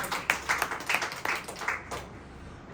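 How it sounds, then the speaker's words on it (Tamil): A church congregation claps in unison, about six sharp rhythmic bursts of hand clapping evenly spaced, then fading into quiet with faint room sound. "கைத்தட்டி ஆண்டவர் மகிழ்ச்சிப்படுத்துவார்"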